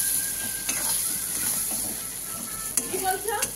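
Spice masala with sugar and salt for potoler dorma is stir-fried in a pan, giving a steady close hiss of frying with a few sharper scrapes of the spatula near the end.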